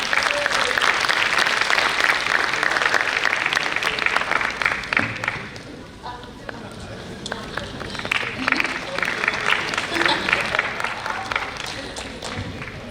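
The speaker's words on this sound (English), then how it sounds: "Big round of applause for Pradeep sir." Audience applause fills a conference hall, dense steady clapping from many hands that dips briefly midway then swells again, with a voice or two faintly under it.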